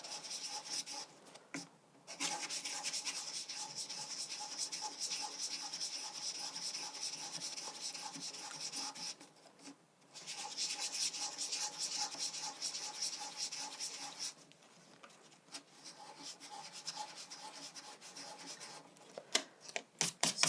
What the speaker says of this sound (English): take a coarse piece of sandpaper, and in the motion figure of 8 we can just